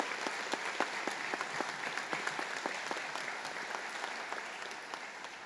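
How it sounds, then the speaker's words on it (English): A round of applause for a graduating police academy class at a graduation ceremony, steady moderate clapping from an audience at some distance, with individual sharp claps standing out. "I'd like to recognize the graduating class with a round of applause."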